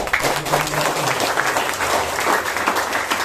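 A church congregation breaks into sustained applause for a newly ordained pastor at an ordination service, a dense, steady roar of many hands filling the hall, with faint voices mixed in underneath.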